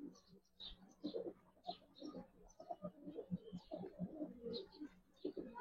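Domestic pigeons coo in a loft, their soft, rounded calls repeating close by in overlapping bursts, with occasional wingbeats and other birds chirping faintly behind.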